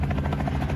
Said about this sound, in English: Soon, a plane packed with 70 dogs touches down on the runway.